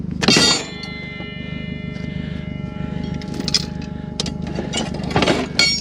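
Heavy Draw-Tite trailer hitch parts clang together in a few loud metallic strikes with ringing tones, heard over a steady idling vehicle engine.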